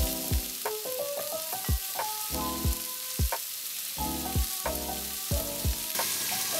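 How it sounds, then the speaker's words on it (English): Chopped pork belly pieces frying in a pan, a continuous bright sizzle under repeated sharp clanks and knocks from the pieces being placed and shifted, close and fairly loud. "start placing the chopped pieces of pork belly into the pan"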